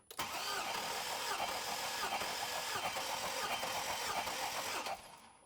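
A Hummer H3 engine cranks steadily for about five seconds with the plugs out for a cylinder compression test, a continuous loud whirring starter drone that cuts off abruptly at the end.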